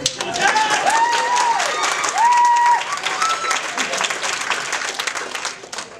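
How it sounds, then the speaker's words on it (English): Audience applause for a student at a winter class show, a crowd clapping briskly with some cheering and whoops over it, close and lively, tapering toward the end. "you can give him a round of applause"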